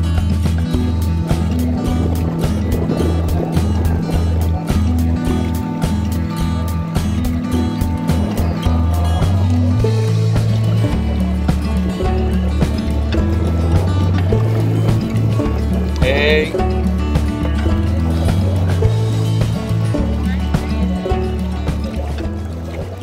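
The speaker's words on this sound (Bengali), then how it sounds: "খুব ভালো এক্সপিরিয়েন্স হলো আজকের আমাদের এই ডাউকির যে বোট রাইডিংটা" Motor boat ride on the Umngot river at Dawki, Meghalaya, near the India–Bangladesh border: a steady low engine drone and water noise run throughout, with people talking over it.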